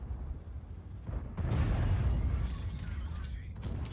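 Tank destroyer cannon firing in a tank video game, a single heavy boom that bursts out loud and rolls into a long rumbling decay, with a faint murmur of low background sound.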